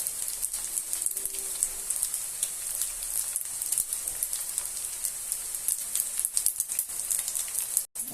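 Continuous hissing sizzle of food frying in a pan while making spaghetti with minced meat, steady and close, with occasional pops and clinks.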